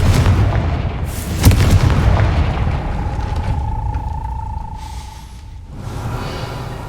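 A Confringo blasting spell from Hogwarts Legacy goes off in a loud booming burst aimed at a gate, with a sharp impact and rumbling blast followed by a sustained magical hum that fades out.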